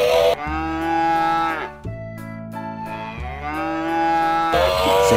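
A cow moos loudly and close, two long drawn-out lowing calls with a brief gap between, heard alone without talk.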